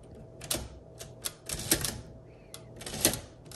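Keys and the tab key of a 1958 Olympia SM4 manual typewriter clack in a handful of sharp, separate strikes with a short carriage whir between, close and quiet.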